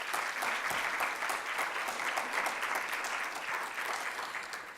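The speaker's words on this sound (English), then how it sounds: "another round of applause" An audience at the Mapungubwe Annual Lecture 2017 applauds in a dense, even burst of clapping that fills the room for a few seconds, then begins to fade.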